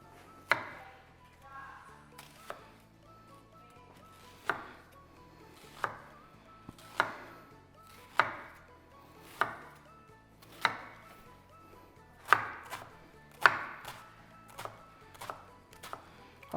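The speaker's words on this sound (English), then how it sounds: "we're gonna start by chopping up our onion" A knife chopping an onion for guacamole on a cutting board: a slow, uneven series of about a dozen distinct close taps, sharp and clear against a quiet kitchen background.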